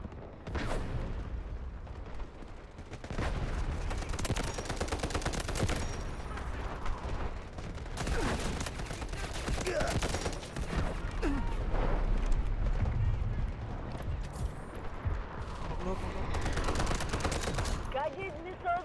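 A video-game battlefield fills with sustained artillery barrage and rapid gunfire, dense booms and bursts rolling continuously and loud, with players' voices and game radio chatter mixed in.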